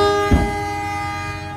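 Indonesian executive passenger train Mutiara Timur heard from on board, a steady rumbling hum with a brief louder burst near the start, no talk.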